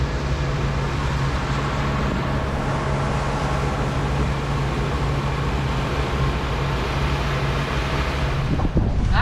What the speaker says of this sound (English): The wind came up a little bit.